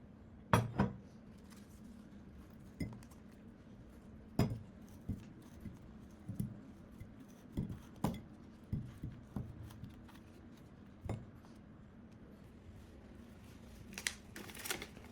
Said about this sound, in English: Once the ginger has frozen into cubes, I take it out of the mold.